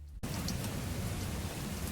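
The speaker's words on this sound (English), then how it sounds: "We were left alone in the dark with the roaring rain." Heavy, roaring rain pours down in the dark just outside a bar's door, starting abruptly and continuing as a dense, steady wash of close, loud noise with no voices.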